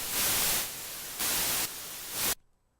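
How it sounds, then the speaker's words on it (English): Loud hissing white noise switching on and off in bursts, slightly changing in level, then cutting abruptly to near silence. "now we're going to send some white noise through this thing"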